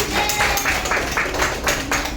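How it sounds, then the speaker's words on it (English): A classroom of students clap their hands together for their classmates, a dense, steady patter of many palms lasting throughout at close range, with no talking. "clap your hands for your classmates"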